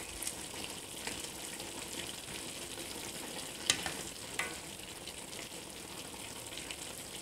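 Beef curry with vegetables cooking in a pan, a faint continuous sizzle with occasional brief clinks or scrapes, quiet and close, no talking.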